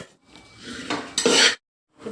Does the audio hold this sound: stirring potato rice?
yes